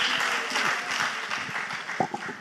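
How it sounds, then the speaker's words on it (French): A church congregation claps as an offering to Jesus, giving sustained applause with some voices and whoops mixed in. "Clap offering to Jesus."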